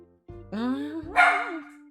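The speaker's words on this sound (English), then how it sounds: "Oh, doggy." A dog named Merlin lets out a couple of close, tonal yips and whimpering barks, one rising into a louder whine, with a person's voice nearby.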